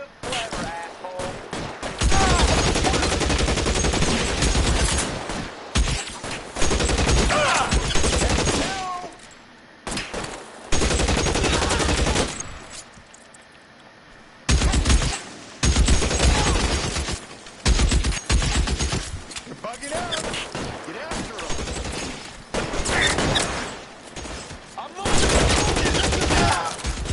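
Gunfire in the video game L.A. Noire rings out loud and close in long, dense volleys broken by brief pauses, with voices now and then amid the shooting.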